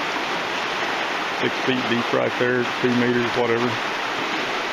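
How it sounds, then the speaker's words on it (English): The rapids of Coker Creek in Tennessee rush steadily in a shaded wooded spot, a dense broadband wash throughout, with someone talking over it partway through. "See the creek going by."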